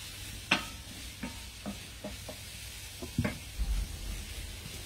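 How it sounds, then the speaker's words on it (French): Onions sizzle steadily in a pan on the way to a potato, raclette and wild garlic pie, with a low continuous crackle broken by a few sharp scrapes and knocks of a utensil stirring them. "Alors les oignons, on les fait bien griller."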